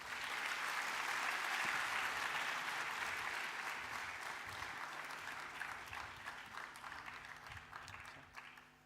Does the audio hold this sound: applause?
yes